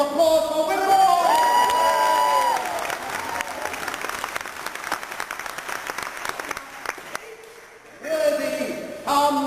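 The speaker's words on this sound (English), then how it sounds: "applause for Wimbledon!" Audience applause and cheering for Wimbledon at a 1999 quiz-show challenge, a dense steady patter of clapping with crowd noise layered over musical tones, fading briefly before swelling again near the end.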